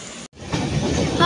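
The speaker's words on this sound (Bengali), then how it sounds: "এই বর্ধমান স্টেশনে ঢুকলো ট্রেনটা আমাদের।" The Padatik Express from Sealdah to New Jalpaiguri pulls into Bardhaman station, heard from inside a coach as a broad, hissing rumble. There is a brief dropout, then a steadier, louder rolling noise, with faint voices mixed in.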